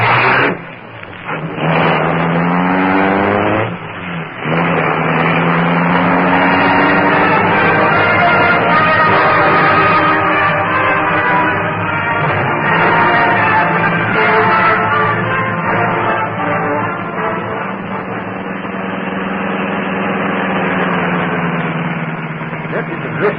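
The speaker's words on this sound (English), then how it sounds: "The great car roared into life." The Black Beauty, the Green Hornet's car, roars to life in a hidden garage and speeds off into the night: a loud, steady engine rumble swells up and then holds, running continuously to the end.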